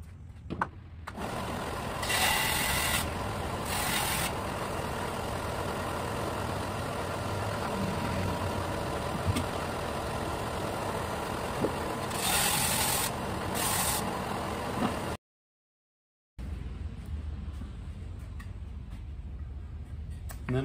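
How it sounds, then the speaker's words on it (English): A power sander grinds a bevel into the edge of a wooden piece for a kids' four-lane race track, a loud steady rasping drone with brief brighter surges, cut by a short gap of silence before it resumes. "So I'm going to hit this with a sander."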